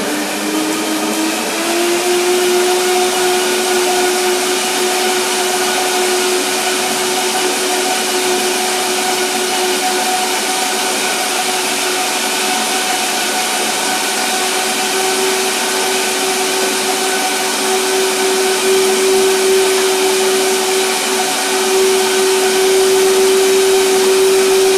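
A kitchen blender purées a spicy cashew mixture thinned with water, its motor whining loudly and steadily for the whole stretch, with a constant tone and no talking.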